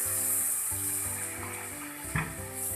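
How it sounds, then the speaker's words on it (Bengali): Fried potato and pumpkin stems in a pan sizzle steadily, then water hits the hot pan with a sudden louder hiss and splash near the end. No one speaks. "আমি এর মধ্যে এবারে জল দিয়ে দিলাম।"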